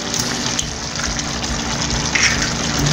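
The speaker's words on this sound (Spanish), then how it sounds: "Vamos a echar el huevo y vamos a mezclar con nuestras vainitas" Beaten egg poured over sautéed green beans with tomatoes in a hot pan, a loud, steady sizzle and gushing hiss as the mixture is stirred, with no voices.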